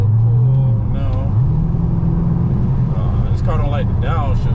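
A Dodge Charger RT with a muffler delete accelerates hard, its deep loud exhaust drone climbing in pitch through the gears. Someone talks over it.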